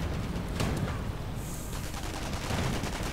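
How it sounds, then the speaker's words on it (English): Gunfire in a World War II real-time strategy battle as riflemen come under fire from an Ostwind flak tank, a dense, continuous crackle of shots and bursts at steady loudness with no talk. "Rifleman mounting army coming under fire from the Ostwind Flak Panzer."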